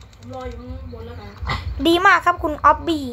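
A dog howls in a Roblox ghost-map game set in a park ranger's forest, with wavering, rising and falling cries. Someone talks over it the whole time.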